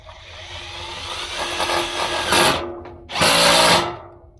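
A power drill pre-drilling a pilot hole whines and builds in two loud bursts as it bores into material, then winds down abruptly.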